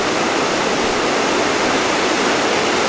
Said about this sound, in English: a waterfall that's like almost completely frozen over